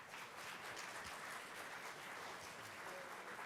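Sustained applause for panellists at an education conference in Dubai, a steady dense patter of many hands that stays even and moderately distant throughout.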